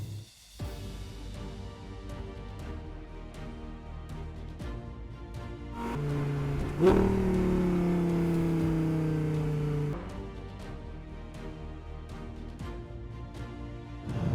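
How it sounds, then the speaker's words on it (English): An Audi R8 V10 engine cold-starts, cranking and firing with a sharp rev, holds a high, droning idle for a few seconds, then drops back to a quieter rumble. "You're in a V10, the cold start on this thing is brilliant."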